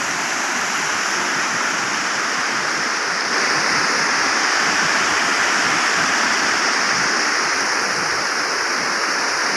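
Strong water rushes loudly and continuously through the Isan Khiao canal, a dense, even roar close by with no voices.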